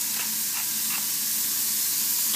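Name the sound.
shrimp sizzling as it cooks in the pan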